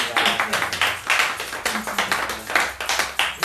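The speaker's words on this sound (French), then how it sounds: "On l'applaudit." A church congregation at a Feast of Tabernacles service claps together in a steady rhythmic beat, roughly three claps per second, fairly close and even, with faint voices underneath.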